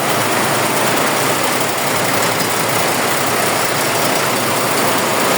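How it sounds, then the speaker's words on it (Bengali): A large multi-head embroidery machine stitching saree work in a workshop produces a loud, steady mechanical drone with a constant whirring hum and no pauses or talk. "এইদিকে শাড়ির কাজ করা হচ্ছে। দেখেন কত বড় মেশিন, কতগুলো হেড একসাথে চলতেছে।"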